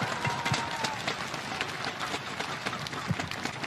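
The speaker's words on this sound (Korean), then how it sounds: "뜨거운 박수로 맞아주시기 바랍니다." A large crowd applauding a pastor as he comes onstage at a Pentecostal church gathering: a faint, diffuse roar of clapping and cheering, heard at a distance with a loose, rolling texture.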